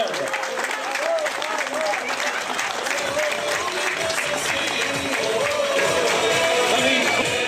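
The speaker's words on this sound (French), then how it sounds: "on l'applaudit encore" Crowd applause at an outdoor women's Coupe de France cycling race podium, steady and sustained throughout, with a public-address voice and crowd murmur mixed in.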